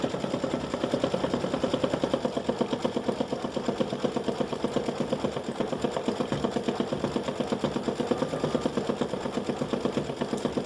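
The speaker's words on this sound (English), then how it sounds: "I'll let it stitch another petal or 2 so you can see how" An embroidery sewing machine stitches a flower petal appliqué in a flip flop design, giving a fast, steady mechanical chatter of needle strokes that runs evenly throughout with no talking.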